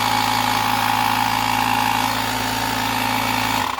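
An Osram TYREinflate 2000 portable tire inflator runs with a loud, steady droning motor buzz close by, then cuts off at the very end.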